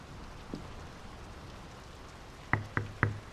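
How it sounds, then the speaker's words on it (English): Rain falls steadily in the video game Draugen as a soft constant hiss, then three sharp knocks sound in quick succession near the end. "The rain's picking up."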